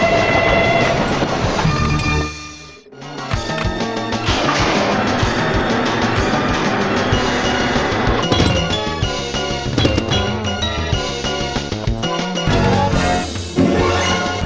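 Train effects from the WHO dunnit murder mystery pinball table, a dense, loud arcade mix of rumbling, clattering mechanical and electronic sounds with a brief drop around the middle of the first section.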